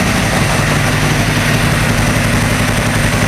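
A drag-racing motorcycle engine idles steadily up close while warming up, a constant low rumbling drone with mechanical vibration and no voices.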